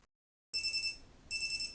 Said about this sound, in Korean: 내가 알람을 맞출게요.